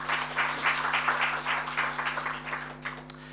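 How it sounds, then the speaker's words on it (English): Warm round of applause from an indoor audience welcoming a team at a talk on dementia, Alzheimer's and Parkinson's; steady, dense clapping with a constant low hum beneath, holding level before thinning slightly at the end. "Please give them a very warm round of applause."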